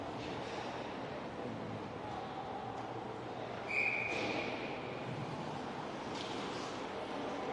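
Faint, distant rumble of a train rolling past an ice hockey rink during a youth game, a steady low wash that holds throughout, with a brief brighter squeal midway.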